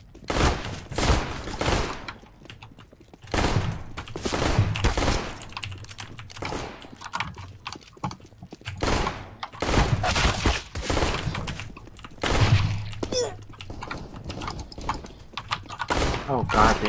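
Rapid burst fire from dual Glocks in CS:GO crackles in repeated clusters of sharp shots across the clip, mixed with other in-game gunfire and footsteps, while a player talks excitedly over the action.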